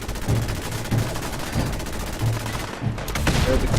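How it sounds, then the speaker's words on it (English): Repeated cannon fire from the U.S.S. Constitution in the Fallout 4 video game, a series of heavy booming shots spaced across several seconds, loud and close, with brief gaps between blasts. "The cannons are ready. I fire at will."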